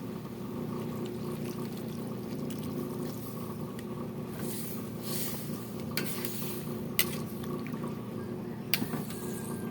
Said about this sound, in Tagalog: Saka, ibigyan na natin ng sabaw. Ibigyan natin ng tubig.